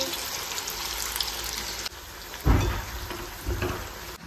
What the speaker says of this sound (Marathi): बिर्याणीसाठी कांदा तळून घेते